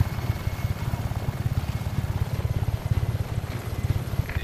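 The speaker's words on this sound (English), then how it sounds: "Dispatching chopper support to contact." A helicopter in the video game Just Cause 3 thrums steadily with a fast rotor pulse and a broad engine roar, continuous and fairly loud with no voices.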